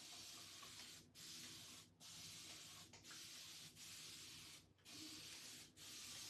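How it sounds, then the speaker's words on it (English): A spray bottle mists a jean jacket in about six close, loud hissing bursts, each roughly a second long and separated by brief pauses. "I'm just going to give it a spray down."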